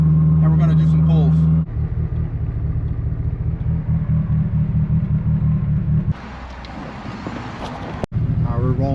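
A Mitsubishi Evo 8 engine idles while warming up, a steady low rumble that runs continuously and close by, with a shift in tone partway through.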